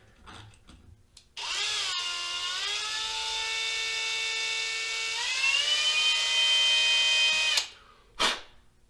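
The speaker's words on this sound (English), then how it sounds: "And we're going to be drilling these peen holes out" Close-up drill whirring steadily for several seconds, pitch dipping as it drills out soft aluminum peen holes on a Showa fork part, then stopping, followed by a short final burst.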